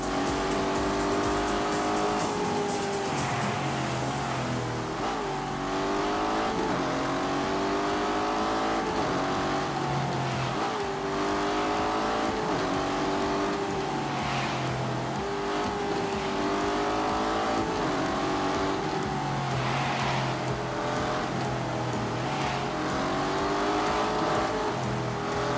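A Lamborghini Urus driven in snow mode in a racing video game, engine revving and shifting in repeated rising sweeps with tire squeal, loud and continuous without speech.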